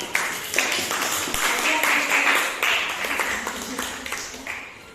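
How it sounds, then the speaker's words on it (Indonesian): Applause for Deborah at a school teachers' dissemination session, a dense steady patter of many hands clapping for about five seconds, moderately close, with some voices mixed in. "tepuk tangan untuk yang Deborah"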